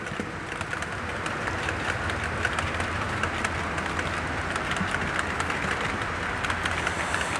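Model trains on a layout rumble and clatter steadily past at close range, a continuous rolling rattle with light clicking over the track joints.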